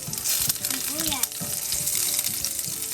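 Onions sautéing in a hot pan for Filipino igado, a loud, steady sizzle and crackle with occasional stirring scrapes, close up and continuous throughout.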